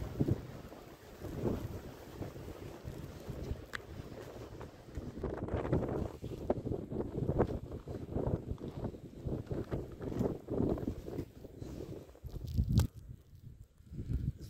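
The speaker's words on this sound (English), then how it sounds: "A lot of snow, blowing snow." Wind gusting and blowing snow outdoors on a snowy day in Canada, a steady rough roar with buffeting gusts that swell and fade, loud against the microphone and continuing alone throughout.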